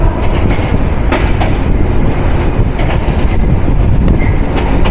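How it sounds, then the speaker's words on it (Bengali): The Nilsagar Express intercity train runs on rails near Tejgaon station in Dhaka, a loud, close, continuous rumble with rhythmic wheel clatter and occasional clicks, and no voices. "আমার পছন্দের তালিকার অন্যতম একটা জনপ্রিয় আন্তনগর ট্রেন নীল সাগর ওরফে নীলপুরী নীলাঞ্জনা"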